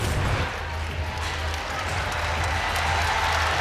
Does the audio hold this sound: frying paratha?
no